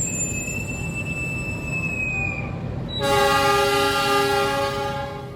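Baturaden Express passenger train pulling into Krupuk station, a steady rolling rumble with a thin, high wheel squeal, then a loud, sustained horn blast that starts partway through and holds to the end.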